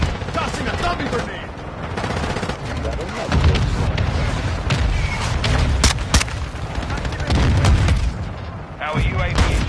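A decoy grenade imitating gunfire in a military shooter game: dense, loud, continuous bursts of rapid cracks and thuds, with game voices talking over the barrage.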